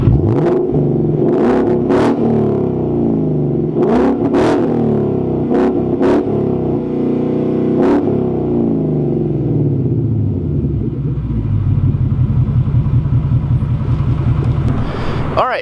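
A car fitted with a Magnaflow Competition catback exhaust revs up toward 4,000 RPM nearby, sharp throttle blips giving way to a loud, steady droning hold with a deep rumbling tone.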